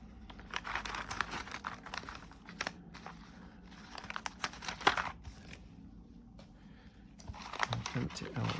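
A bag of small screws for a 1:8 scale Back to the Future DeLorean model kit is handled and emptied, giving soft plastic crinkles and scattered light clicks and rattles close by, while a person talks throughout.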